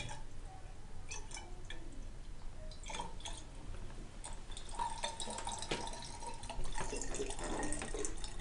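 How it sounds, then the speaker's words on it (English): Water is poured into a laboratory flask, filling it up to the line, making a steady, faint trickle with scattered drips and small splashes. "I'm going to then fill this up to the line with additional water."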